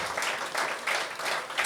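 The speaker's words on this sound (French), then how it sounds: "Applaudissez pas, là." A live comedy club audience bursts into applause, pulsing in waves of clapping across the short stretch, fairly close and moderately loud with no talk over it.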